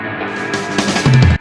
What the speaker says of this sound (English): reverse guitar sweeps that help elevate into the next chord. So altogether, the intro sounds like this.